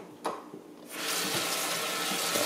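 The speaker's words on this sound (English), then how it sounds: "Running some cold to warm water over the keyboard." Cold-to-warm tap water pours over a backlit gaming keyboard, starting abruptly after a quiet moment with a couple of faint knocks, then a loud, steady splashing rush.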